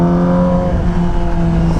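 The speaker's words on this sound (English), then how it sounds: "Rev matching downshift's very easy to do." A 2007 Yamaha YZF R6 sport bike's engine hums loud and close at steady revs, a strong tonal exhaust drone typical of a rev-matched downshift on a mountain road ride.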